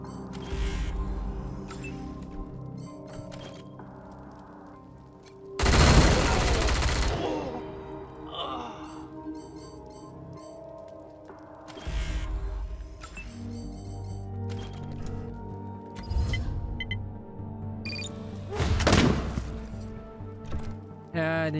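Rocket launcher fire in Wasteland 3 combat: several loud blasts spread out over the span, one long roaring burst standing out, mixed with game music and effects and brief moments of talking.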